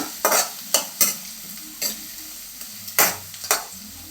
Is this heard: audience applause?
no